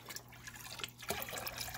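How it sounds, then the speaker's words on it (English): Water pours into a cup with a steady trickle and a brief splashy surge partway through, close and quiet, with no talk over it. "ASMR pouring sounds part two."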